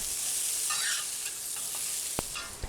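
Aromatics and onions stir-frying in a cast iron wok, a loud continuous sizzle with scraping stirs and a sharp metallic knock near the end, close and alone without talk.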